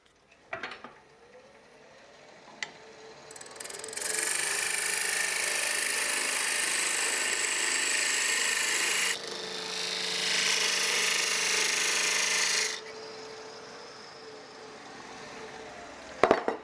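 A wood lathe turns a tenon on a piece of spalted beech, with a high, hissing cutting scrape that runs steadily for several seconds, grows brighter midway, then stops, with light clunks before and after.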